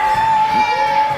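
A loud crowd at a Mario Kart tournament cheers and whoops in a sustained roar, with children's shouting mixed into the noise.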